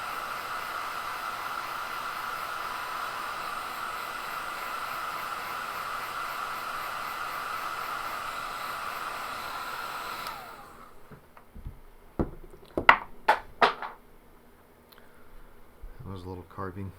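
A hair dryer blows steadily on white wash paint on a small carved face for about ten seconds, a constant whooshing hum, then switches off, leaving a few soft clicks and handling knocks.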